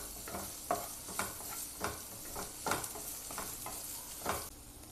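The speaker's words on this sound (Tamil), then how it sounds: "அதில் நம்ம வெட்டி வச்சுருந்த ஆனியன் போட்டுடலாம். போட்டு வதக்கலாம்." Chopped onions being sautéed lightly in a pan for an egg paratha, heard as a soft steady sizzle with repeated scraping stirs of a spatula at a regular rhythm, fairly quiet and close with no talking.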